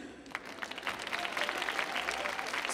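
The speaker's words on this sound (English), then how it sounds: "Clap for them." An audience at a Millennium Stage concert claps for singers, a building patter of applause rising from sparse to denser claps, with faint voices mixed in.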